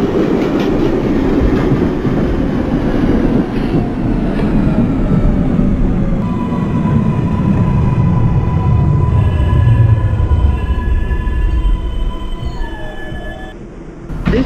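NYC subway 4 train on the IRT Lexington Avenue Express line toward Woodlawn in the BVE train simulator, loud rumbling wheels and motor with squealing tones that rise and fade before the run quietens.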